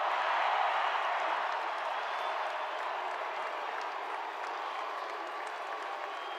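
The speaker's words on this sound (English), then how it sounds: "Everybody, let's give them a round of applause" Sustained applause from a large stadium crowd at a national championship celebration fills the clip, dense and even, slowly tapering slightly toward the end.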